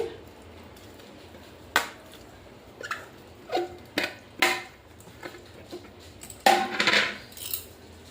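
Grated raw mango poured and scraped from a grater into a bowl, giving a handful of separate soft clinks and scrapes against the dish spread over several seconds, close and fairly quiet.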